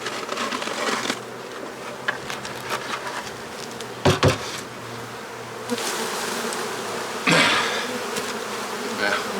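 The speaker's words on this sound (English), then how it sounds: "I'm going to knock those bees into this hive." Bees buzzing continuously around a beehive as they are knocked from a frame into a hive, a dense close hum with sharp thumps and bursts of agitated buzzing.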